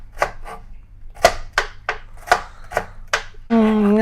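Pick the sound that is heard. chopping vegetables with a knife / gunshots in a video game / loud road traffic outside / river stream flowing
chopping vegetables with a knife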